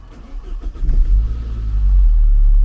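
A Saab 93 engine cranks briefly, catches, and settles into a loud, steady rumble close by.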